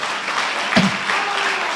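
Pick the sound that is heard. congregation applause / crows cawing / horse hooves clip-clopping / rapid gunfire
congregation applause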